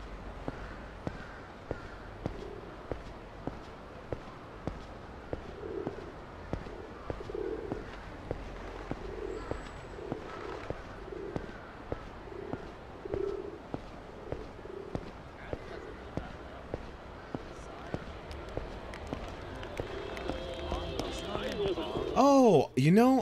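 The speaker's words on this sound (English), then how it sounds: "Look at the pigeons!" Pigeons coo softly in a city park in Yakuza 0, with a series of low, rounded calls under regular footsteps and light background ambience.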